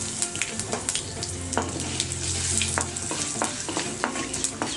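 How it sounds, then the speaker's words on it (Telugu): Mustard seeds crackle and pop in hot oil with curry leaves and asafoetida while making Mysore bonda; a steady close sizzle carries sharp, irregular spits and snaps throughout, with no talking. "ఆవాలు చిట్టపట్టలాడుతున్నాయి కదా"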